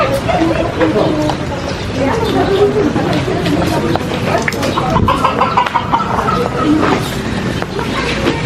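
Chickens cluck and call continuously, with people talking nearby and general farmyard clatter.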